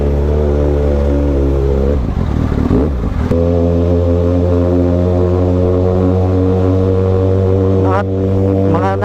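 A motorcycle carrying a rider and a passenger runs with a steady, close engine drone, and a brief rougher burst of engine noise cuts in partway through.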